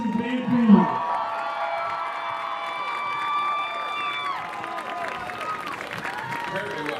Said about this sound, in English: Let's give a big round of applause for these fine members of the band family.